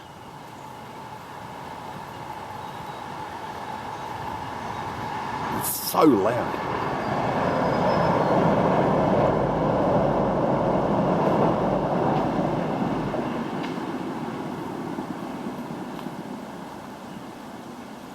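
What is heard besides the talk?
passing train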